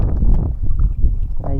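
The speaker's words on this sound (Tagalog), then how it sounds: "Medyo malakas na yung hangin o." Strong wind roars against the microphone aboard a small fishing boat at sea, a loud, steady low rumble with buffeting gusts, while someone talks over it.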